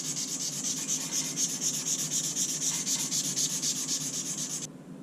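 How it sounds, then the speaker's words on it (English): Steady rhythmic scraping of sandpaper rubbed back and forth by hand, close and continuous, stopping abruptly near the end. "It's always a good idea when you're hand sanding to wet sand"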